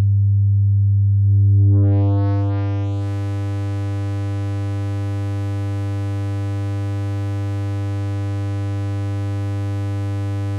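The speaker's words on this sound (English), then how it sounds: "I can easily increase it using the drive control of the decapitator." Harmonic distortion from a Soundtoys Decapitator plugin with its drive turned up: a low sustained tone that swells into a dense, buzzy harmonic stack around two seconds in, then holds steady and loud with no talk.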